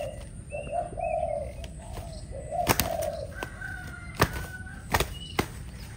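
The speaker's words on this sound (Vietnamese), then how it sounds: "Chim đá lộn rù rất là tốt." A Malaysian decoy dove coos in repeated low phrases at close range, followed by a few sharp clicks and brief higher calls, with quiet background around it.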